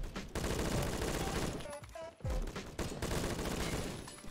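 Rapid automatic gunfire from a gun in the Phantom Forces video game rattles almost continuously, loud and dense, with a brief break midway before the sustained burst resumes.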